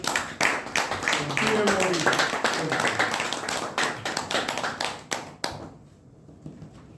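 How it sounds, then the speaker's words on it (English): An audience at a Toastmasters club meeting bursts into dense applause, clapping hands loud and close for several seconds before tapering off into scattered last claps and quiet. "can we have a bigger round of applause for Toastmaster Anand?"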